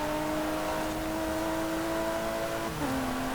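Supercharged Jaguar V6 of a Forza Horizon 4 race car droning at steady revs, then dropping pitch near the end as if shifting gear, loud and close.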